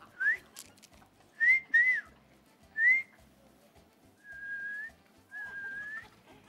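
A man whistles to imitate a little bird, making a string of short, chirpy upward whistles and then two longer steady notes, clear and close over faint background noise.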